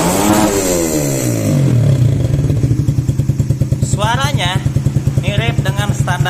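A motorcycle engine revs up from idle, then settles into a loud rhythmic putter, with someone talking over it partway through.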